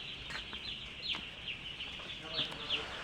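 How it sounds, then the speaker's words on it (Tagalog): Many small chicks on a farm peep together in a steady, high chirping chorus, with a few louder calls rising out of it at intervals and no pauses throughout. "Yan yung sisiw namin oh."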